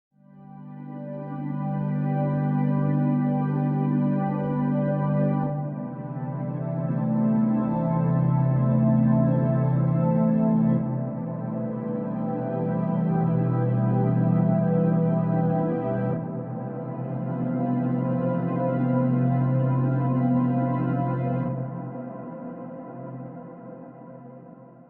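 A sustained, normal-sounding synth pad swells in with thick, warm chords that shift slowly over about twenty-five seconds, steady and fairly loud, then fades at the end; no one speaks.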